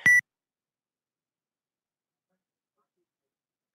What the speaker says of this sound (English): I heard a beep.